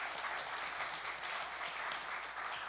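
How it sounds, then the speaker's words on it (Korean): A church congregation claps in welcome for newcomers during a children's Sunday worship service, a steady dense wash of applause that fills the room at even strength from start to finish. "박수로 환영하시겠습니다."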